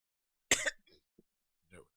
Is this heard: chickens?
no